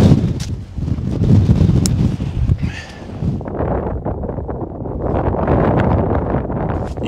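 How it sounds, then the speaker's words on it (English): Strong winter wind on Ben Lomond mountain buffets the microphone with a loud, low roar and gusting rumble, continuous throughout with no voices. "It's windy up here"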